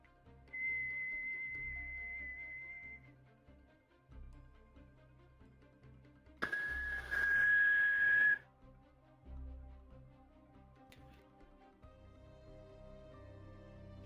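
A wind sound made by whistling, with a long steady whistled tone at the start and a louder, breathier whistling stretch midway, heard alone at moderate loudness.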